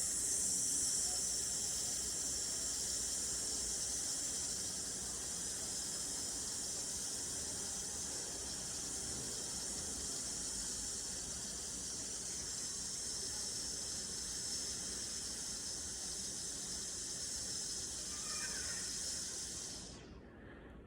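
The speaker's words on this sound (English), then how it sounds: "we're going to exhale through our teeth, make a sound like this." A person exhales through the teeth in one long, steady hiss lasting about twenty seconds, close and fairly even in strength before tapering off at the end.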